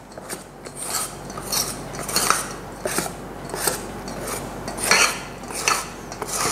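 Pandan sponge cake batter stirred in a bowl, giving soft repeated scraping and clinking strokes of a utensil against the bowl in a steady rhythm, close and fairly quiet, with no talking.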